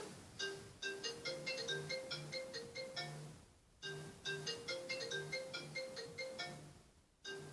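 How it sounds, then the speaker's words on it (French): A mobile phone ringtone plays its short repeating melody loud and close, cycling through about two full loops with brief gaps between them and no talking. "Évidemment, le téléphone qui sonne."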